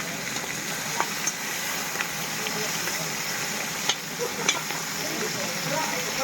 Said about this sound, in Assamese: মাছটো এতিয়া ফ্ৰাই কৰি আছোঁ